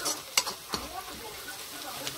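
Onions fry in a pan with turmeric powder added, a soft sizzle running under a few sharp scraping clacks of a spoon stirring, close up and without talking.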